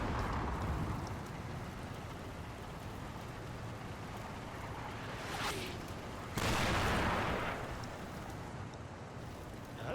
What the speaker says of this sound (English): That's more barrage coming from that wood